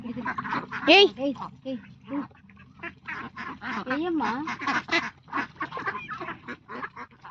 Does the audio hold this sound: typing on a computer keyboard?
no